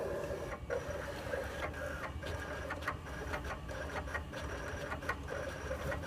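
A Roland vinyl cutter with a drag knife works through its cut, a steady mechanical whir broken by repeated clicks and short motor bursts as the carriage moves back and forth, close and fairly loud, with no talk.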